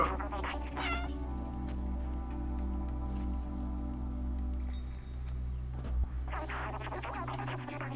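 A cat meows repeatedly in the Stray video game, with a clear cry near the start and another burst near the end over a steady low game-music backdrop.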